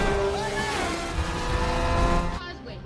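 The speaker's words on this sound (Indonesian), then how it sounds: "Frank pun mengejarnya dengan menggunakan mobil sport" A sports car chasing a helicopter in The Transporter film, its engine roaring steadily with tire noise and rising strain, loud and close for a few seconds before cutting off abruptly near the end.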